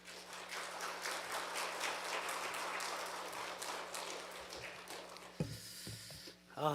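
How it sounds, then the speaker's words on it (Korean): Church congregation clapping to welcome a guest preacher at a New Year early-morning prayer service, a sustained broad patter of many hands in a reverberant hall that fades after about five seconds into scattered taps and shuffling. "우리 나오실 때 환영하는 마음으로 박수로 환영해 주시면 감사하겠습니다."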